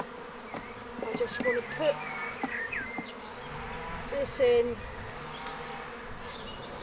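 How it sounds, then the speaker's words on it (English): Honeybees from a swarm buzz steadily at close range around a bait hive, with scattered individual bees passing near, while a voice speaks briefly over the hum. "I just don't want to disturb bees."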